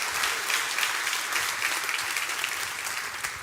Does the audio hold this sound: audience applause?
yes